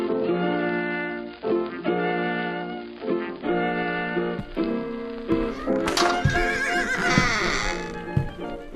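A horse neighs and whinnies several times, loud and close, with long harmonic calls, as a sound effect in a commercial.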